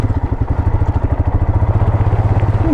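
Motorcycle engine running on a dirt track in Kyrgyzstan, a steady close, loud throbbing rumble with rapid regular pulses and no voices.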